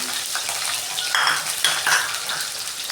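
Mustard seeds, cumin, curry leaves and cooked garlic go into hot oil in a pan for a dal tempering, crackling and sizzling up close with metal spoon clinks and stirring scrapes.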